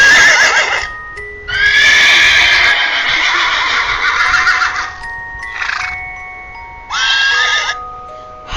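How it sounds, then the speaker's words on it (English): A horse neighs loudly and close, long quavering whinnies repeated several times with short pauses between them and no other sound around. "Horse."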